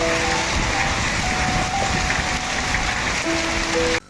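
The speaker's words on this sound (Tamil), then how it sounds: "பலத்த காற்றுடன் ஆலங்கட்டி மழை பெய்தது" Hail pours down in strong wind, a dense, loud hiss and patter of stones striking surfaces without pause, then cutting off abruptly at the end.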